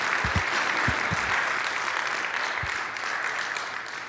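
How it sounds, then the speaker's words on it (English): A conference audience applauds a speaker after a session, giving a steady, moderately loud wash of clapping with a few distinct close claps early on, continuing evenly throughout. "can we just give a round of applause to Bill for this insightful section?"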